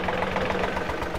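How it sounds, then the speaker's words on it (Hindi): A John Deere 3028EN mini tractor idles nearby with a steady, slightly knocking diesel chug at a constant level, heard briefly on its own. "छोटू ट्रैक्टर है, बागवानी के लिए काफ़ी शानदार ट्रैक्टर माना जाता है ये"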